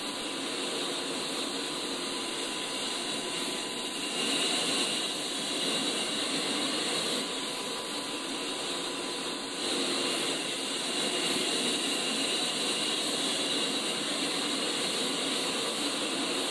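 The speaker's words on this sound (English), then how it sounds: "As the engine spools up" A jet engine spools up in the DCS flight simulator, a steady, loud, airy roar and hiss with a faint whine that holds nearly constant throughout, with no voices.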